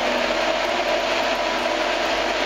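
A grain dryer machine for corn, rice and coffee beans switched on and running, giving a loud, steady, continuous mechanical roar with a constant hum and no talking over it.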